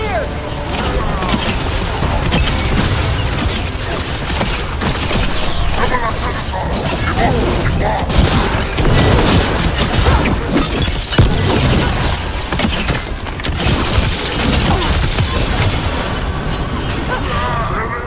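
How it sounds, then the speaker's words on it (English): Battle din from Dragon Age: The Veilguard with cannon fire, a dense, loud, continuous wash of booms, crashes and clattering debris running throughout, with shouting voices mixed in. "Cannon fire! Get clear!"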